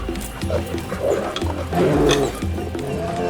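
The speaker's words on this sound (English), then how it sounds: "unleashes a deep roar that echoes through the forest" A bear in a forest lets out a deep, rumbling roar that is loud and close, swelling and fading over a few seconds with heavy growling texture and a low continuous drone beneath.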